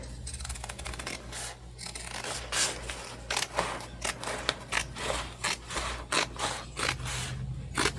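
Scissors snip through fabric for a rustic ghost book sleeve, a string of short crisp cuts coming in quick bursts at close range over a faint steady hum.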